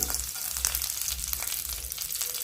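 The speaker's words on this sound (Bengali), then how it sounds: "শুকনো মরিচটাকে একটু ভেজে নেব কালার আসা পর্যন্ত" Chopped garlic and dried red chillies frying in hot oil, a dense continuous sizzle close up with no talk.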